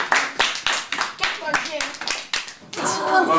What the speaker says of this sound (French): on applaudit pour vous-même les enfants